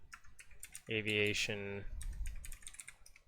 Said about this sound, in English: I'm typing that out.